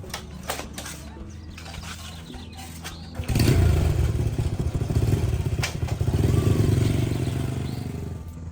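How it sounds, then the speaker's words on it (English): An old green motorcycle kicks into life after a few faint clicks, then revs up and rumbles loudly and steadily as it rides off, its engine note rising and falling. "they both get on their old green motorcycle and head to the supermarket"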